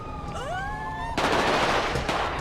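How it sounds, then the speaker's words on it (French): Automatic gunfire in a video game erupts into a dense, loud burst after a brief rising whine, the rapid shots continuing without pause to the end. "Donc ça rafale un peu partout."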